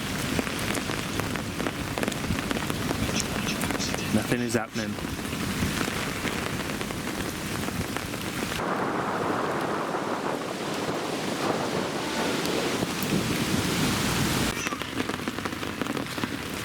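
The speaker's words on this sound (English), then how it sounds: "It's proper big blobs of rain coming down now" Heavy rain pounds a carp-fishing bivvy in big fat drops, a dense continuous hiss and patter with gusts of wind, close and loud throughout, while someone briefly speaks over it.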